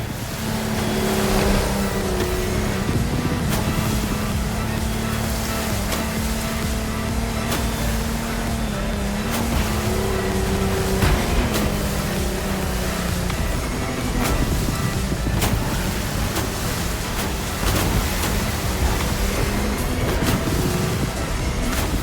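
A Lamborghini racing motorboat engine in a video game roars continuously, its pitch climbing and dipping as it speeds over splashing water, loud and close.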